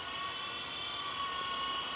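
A Sky Rover Phoenix 4-channel RC helicopter with a fly bar, its small electric rotor whining in a steady, loud, high-pitched buzz that holds unchanged throughout, with no voices.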